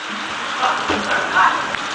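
Rain falls steadily outdoors on an open basketball court during a barbecue gathering while players keep playing, a constant close hiss of drops with faint voices underneath.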